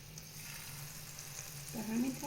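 Spinach kuku batter spooned into a hot frying pan gives a soft, steady sizzle, faint and close, with a brief scrape of a spoon near the end.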